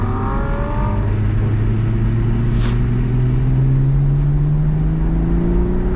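A race car accelerates hard on the track at Lime Rock Park, its engine note climbing steadily in pitch. The engine is loud and close, as if heard from inside the car, with no speech.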